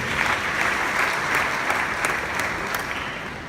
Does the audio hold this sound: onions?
no